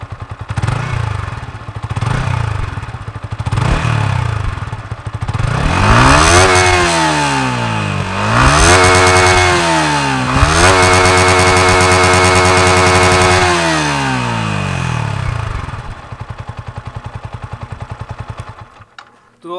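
A stationary Yamaha R15M motorcycle idles with a few soft blips, then revs hard several times in rising and falling surges before a long sustained high rev that drops back down, loud and close.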